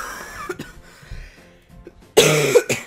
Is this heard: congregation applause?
no